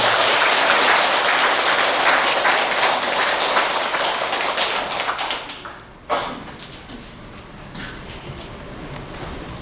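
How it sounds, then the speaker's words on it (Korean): A Buddhist congregation gives big applause to welcome a monk at a Wednesday dharma service, dense and loud at first, then thinning and fading out after about five seconds, with a sharp knock and a few scattered claps afterward. "불자 여러분들께서는 큰 박수로 스님을 환영해 주시기 바랍니다."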